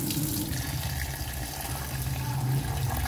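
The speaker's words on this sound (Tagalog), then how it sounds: "Lagyan lang natin ng tubig." Tap water runs steadily into a pot for the whole moment, a continuous splashing gush at moderate level with no voices.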